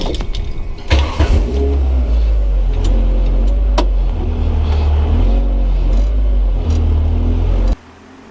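A 1997 Renault Sport Spider engine hums and rumbles steadily from inside the car as it drives, with slight shifts in pitch as it accelerates, then cuts off abruptly.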